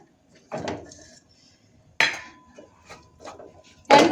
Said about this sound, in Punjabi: ਹੁਣ ਇਹਦੇ ਵਿੱਚ ਆਪਾਂ ਇਹ ਕੱਟਿਆ ਹੋਇਆ ਪਨੀਰ ਐਡ ਕਰਦੇ ਆਂ